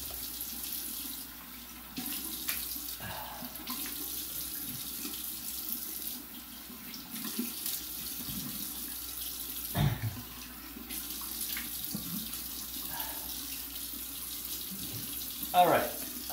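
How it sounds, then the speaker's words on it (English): A bathroom tap runs steadily while someone rinses after a shave, with a continuous close water flow and occasional splashes and hand movements under the stream. "Let me rinse up and see how it went."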